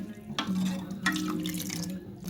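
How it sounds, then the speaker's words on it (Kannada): Water splashes and trickles into a pot of sambar in two short bursts, close by, with faint kitchen clatter. "ಸ್ವಲ್ಪ ನೀರು ಹಾಕ್ಕೊಂಡು ಅವನ್ ಮಾಡ್ಕೊತಾ ಇದ್ದೀನಿ"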